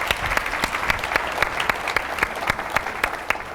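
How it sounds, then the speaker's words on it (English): Keynote audience applauding Matt at a conference, a dense, steady burst of clapping from a sizeable crowd with crisp individual claps standing out, continuing evenly for a few seconds. "Big round of applause for Matt."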